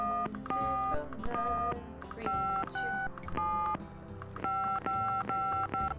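A telephone number is keyed on a phone in the video game Gabriel Knight, a steady run of distinct DTMF tones, roughly a dozen short beeps in quick groups, clear and close over faint background.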